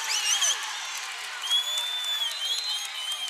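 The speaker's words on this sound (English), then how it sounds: "Boy, that got the crowd pumped up there." A volleyball tournament crowd in an arena claps and cheers after a rally, a sustained wash of applause with scattered whoops and whistles, heard at a moderate distance.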